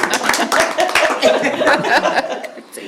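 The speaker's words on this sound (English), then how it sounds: "if you guys would join me in a round of applause" Attendees at a preservation commission meeting give a short round of applause for staff, scattered hand claps mixed with chuckles and light laughter in a small room, fairly close and uneven.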